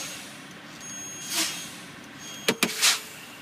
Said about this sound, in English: pump my brake pedal until my parking brakes pop out